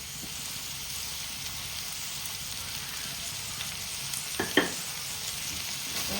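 Onions with a little salt stir-fry in a pan for chicken biryani, producing a soft, continuous sizzle with a couple of brief utensil scrapes near the end.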